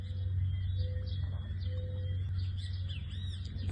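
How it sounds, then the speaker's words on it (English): Small frogs sing around a marina at a dinghy club in St. George's, Bermuda, giving faint high chirps and trills over a steady low hum, with no talk. "Still hear the little singing frogs."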